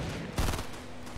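A short burst of gunfire rings out in Fortnite Battle Royale, one loud close volley amid steady game ambience, with no talking.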